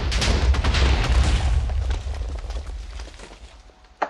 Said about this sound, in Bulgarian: Когато натиснеш с десния бутон някъде, то създава масивна експлозия.